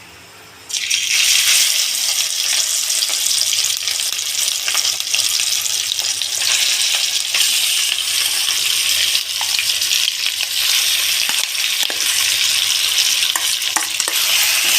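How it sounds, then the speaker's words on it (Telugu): Ivy gourd chutney is dropped into hot oil with fried curry leaves and dried red chillies, bursting into a loud, close, sustained sizzle that hisses steadily with faint stirring scrapes. "ఇప్పుడు కరివేపాకు ఎండుమిర్చి కూడా కొంచెం వేగింది ఇప్పుడు పచ్చడి వేసుకున్నాం"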